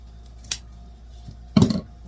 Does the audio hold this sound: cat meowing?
no